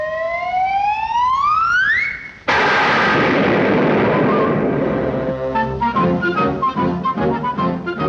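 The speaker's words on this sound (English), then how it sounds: "you're going to hear the doggonest explosion you ever heard" In a Woody Woodpecker cartoon, a rising whistle climbs for about two seconds, then a loud, sudden cartoon explosion bursts and rumbles, followed by clattering, ringing debris.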